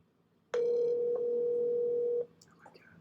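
An outgoing call placed through Google Voice rings once, a single steady electronic tone lasting nearly two seconds, clear and close, followed by faint background sounds.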